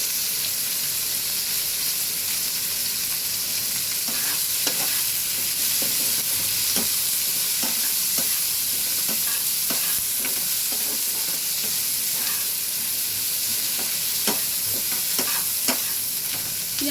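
Onions fry and are stirred in a generous amount of mustard oil, a steady close sizzle with intermittent scraping strokes of the spoon against the pan.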